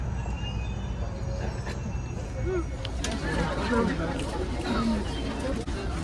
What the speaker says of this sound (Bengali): এই এবার টুকটুক করে ট্রেনটা ঢুকছে